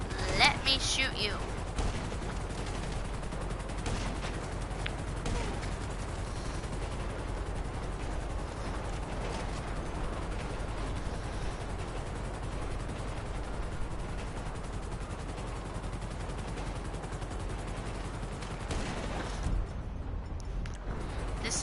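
Sustained video game gunfire aimed at helicopters roars without pause as dense, loud automatic shooting for the full stretch, with no spoken words over it.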